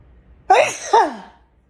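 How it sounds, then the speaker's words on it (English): A single loud, close sneeze made of two sharp bursts in quick succession, the second trailing off, with near silence before and after. "Oh, I got to sneeze."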